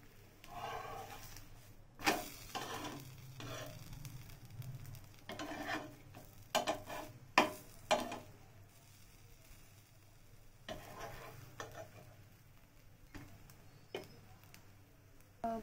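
A spinach egg roll fries in a pan with a soft sizzle under repeated scraping and stirring clatters of a utensil on the pan, close but fairly quiet.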